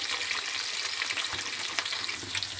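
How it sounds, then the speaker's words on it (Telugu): Curry leaves and ginger-garlic paste fry in hot oil for egg fried rice, a dense, steady crackling sizzle heard up close with a few brief stirring touches. "ఇలా ఫ్రై అవ్వాలి."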